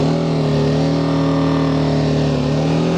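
A car engine runs loud and close with a steady, droning hum that holds even throughout, with no voices over it.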